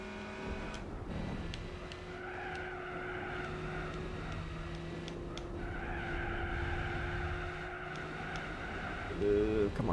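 A race car in Gran Turismo 4 braking hard into a corner, a steady engine drone with rising and falling squealing tire tones, moderately quiet and continuous.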